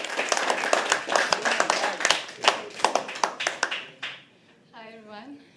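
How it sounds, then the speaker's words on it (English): Audience clapping at a poetry open mic, a burst of dense, uneven applause with overlapping hand claps that thins out and fades after about four seconds. "Keep clapping. Keep clapping. A little more."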